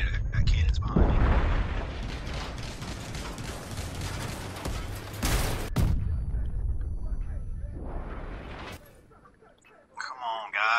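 Cannon fire in an online multiplayer video game, loud booming blasts and dense rumbling bursts close by, with a sharp explosive crack midway and a voice talking over the action.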